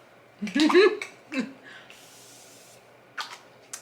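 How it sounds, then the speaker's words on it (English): A brief, soft hiss of makeup setting spray misted onto a face, preceded by a short spoken phrase and followed by a couple of quieter puffs. "I'm gonna go ahead and just spray my face."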